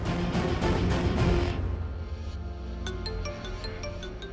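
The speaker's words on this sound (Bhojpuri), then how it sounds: "अक्षय के फोन हमार फोन पे।" A phone rings with an incoming call: a repeating ringtone melody plays in a room at moderate level, with a few bright chime notes toward the end and no speech.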